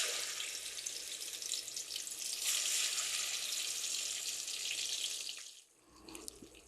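Spiced chicken pieces hit hot oil in a wok, making a loud, steady hissing sizzle that dips near the end before it resumes.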